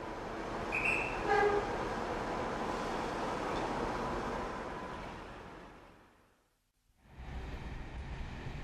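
A train rumbles steadily at close range with a few short horn toots early on, then the sound drops almost to silence before the rolling noise resumes.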